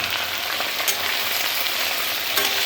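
Large okra pieces frying in very hot oil in a kadai, a loud, dense, even crackling sizzle throughout with a couple of brief louder bursts.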